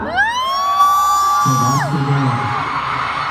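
Loud screaming and cheering from a packed stadium crowd at a K-pop concert in Bangkok, high sustained shrieks that swell and dip, with a burst of lower shouting partway through.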